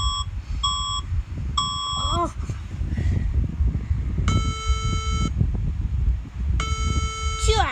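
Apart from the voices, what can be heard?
alarm beeping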